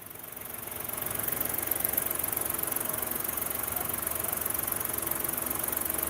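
A car engine rises slightly from a brief rev and then holds a steady, low idle with a continuous mid-frequency drone, heard alone without any talk.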